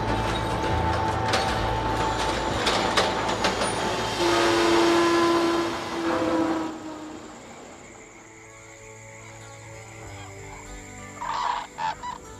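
A small train in Australia's Gulf Country rumbles along with clattering wheels and a drawn-out horn blast, then rolls off into the distance, leaving quieter rattling behind.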